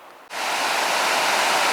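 Water rushes over a dam spillway with the reservoir at full capacity: a loud, steady broadband roar that starts suddenly and continues unbroken.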